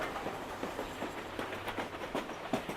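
A train runs on its rails in a steady rumble, with repeated sharp wheel clacks at an irregular rhythm over continuous broadband noise. No one speaks.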